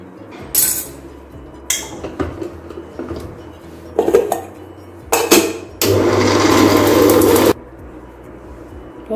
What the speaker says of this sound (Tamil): சேர்த்திட்டு திருப்பியும் மிக்சியை நல்லா இது எல்லாத்தையும் அரைச்சி எடுத்துக்கலாம்.